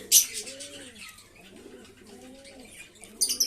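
Pigeons kept for breeding coo in soft low rolling calls, with a brief flutter of wings and faint chirps at the start and end of the clip.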